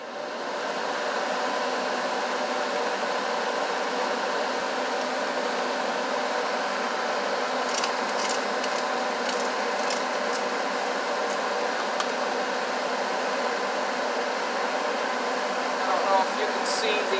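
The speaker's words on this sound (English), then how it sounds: "I have the windows open and I'm turning the stove fan on" Kitchen stove exhaust fan running: a steady, broadband airy whoosh that holds at an even level throughout, with faint clicks and a voice talking over it.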